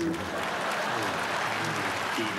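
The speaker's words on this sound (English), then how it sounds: "If you agree with me, then stand up and applaud!" An Emmy awards audience applauds in a dense, steady wash of clapping that holds at an even level from start to finish.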